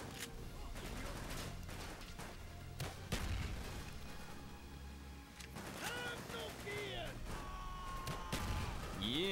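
Explosions and gunfire in the Call of Duty: Black Ops single-player campaign, a dense roar of blasts and rattling fire that runs throughout, with game voices and effects layered over it.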